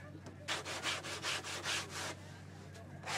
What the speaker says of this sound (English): Now sand screen. We'll just finish that up.